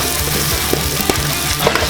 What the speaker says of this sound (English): And our burger is getting cooked.